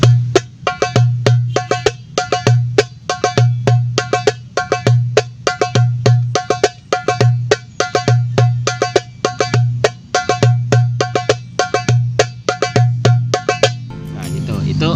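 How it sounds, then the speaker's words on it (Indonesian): Darbuka beating out a classic saidi pattern: steady repeating bars of deep low doum strokes mixed with sharp bright tek slaps, played close and alone, ending in a brief clatter. "Nah terus ada juga yang namanya saidi bagian pukulan yang klasik."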